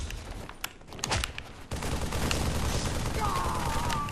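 Video game gunfire rattles in quick bursts of shots, close and fairly loud, followed by a steady dense roar of continued firing and action noise.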